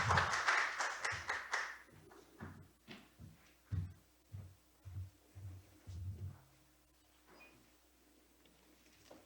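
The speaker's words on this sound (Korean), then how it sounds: "박수로 맞아주시면 됩니다." Brief, fairly faint audience applause at a Korean labor and social policy forum greets a presenter, fading within about two seconds into quiet room sound with a few soft taps.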